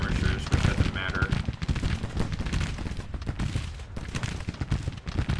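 Musket fire from Civil War skirmishers in the game Grand Tactician: The Civil War, heard as a dense, continuous crackle of overlapping shots that stays loud and busy throughout.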